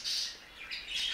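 Pet budgerigar parakeet squawking, two harsh, shrill, close calls in quick succession with no talk.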